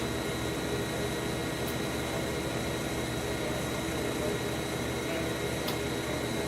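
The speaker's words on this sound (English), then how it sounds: "So we're roughing out the chamber." A steady, broad mechanical roar of a roughing pump evacuating a vacuum chamber on a Technics 800 II C RIE system, with a faint hum and a couple of brief high clicks from valves.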